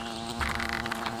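A wasp buzzing in the fantasy video game Fable: The Lost Chapters, a steady, close droning hum with a faint flutter, heard on its own.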